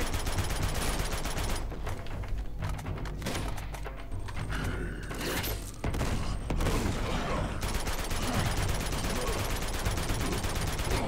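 Uncharted 2: Among Thieves gameplay is full of dense, sustained gunfire, with rapid automatic bursts and thuds layered over game ambience. The firing runs loud and continuous almost the whole way through, with a brief lull near the middle.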